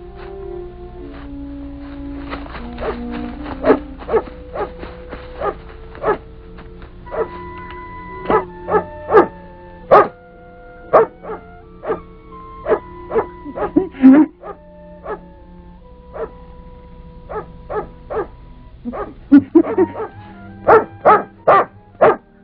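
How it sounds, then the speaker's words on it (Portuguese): A dog barks over and over in a 1953 Brazilian comedy film scene, giving sharp, close barks in an uneven rhythm with short gaps, along with a few yips, against a faint tonal background. "Santo Antônio, faz esse cachorro parar de latir, Santo Antônio."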